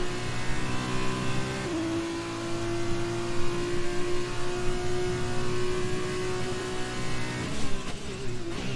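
An F2 race car on a flying lap in a racing game, its engine holding a loud, steady high whine that shifts pitch mid-run, with a brief tire squeal near the end and no talk.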